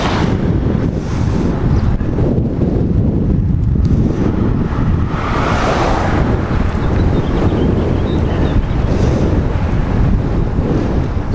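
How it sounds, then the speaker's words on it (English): Strong wind off the water on Cedar Island buffets the microphone in a steady, loud roar, with a faint wash of surf underneath and no voices. "I do feel the wind blowing"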